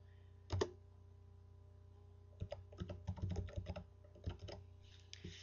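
Computer keyboard typing comes up close in a quiet room: one brief tap, then a dense burst of quick clicking keystrokes, followed by a few scattered presses, all with no speech.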